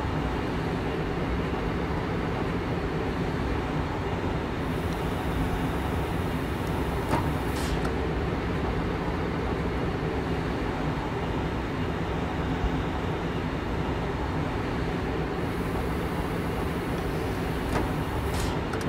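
A RailJet locomotive-hauled passenger train running in Train Simulator 2017, giving a steady, loud rolling rumble and hum with a faint higher whine appearing briefly, no voices.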